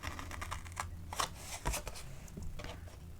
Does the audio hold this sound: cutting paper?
yes